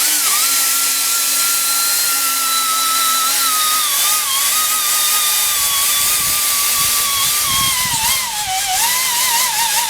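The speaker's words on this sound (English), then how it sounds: "I use what I call a whizzy wheel. Mine's made by Mac Tools." A Mac Tools whizzy wheel, a small high-speed rotary cleaning wheel, whines steadily against a Chevy thermostat housing, its shrill pitch wavering as the load changes, loud and close with no talk.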